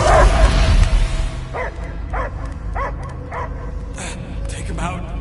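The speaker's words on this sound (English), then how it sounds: "I hear only barking." Dog barking in the Guardians of the Galaxy video game: a run of about six evenly spaced, sharp barks and yips with a whimpering tone, heard over a low background rumble and game ambience.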